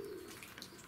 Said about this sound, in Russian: Голуби. Вот они.